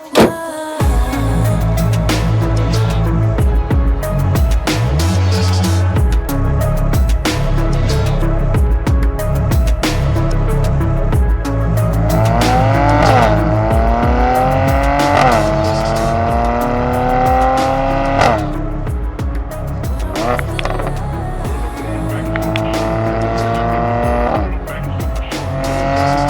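A Mercedes-AMG C43 weighing 1,735 kilos drives in comfort mode, its engine droning loudly as it revs up and shifts through gears in repeated rising sweeps, heard from inside the car with no talking.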